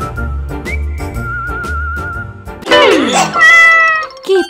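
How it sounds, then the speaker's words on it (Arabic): A small cat meows close by in a few drawn-out, rising and falling cries, with a whistle-like tone and light background sound earlier on. "قطة؟ قطتي."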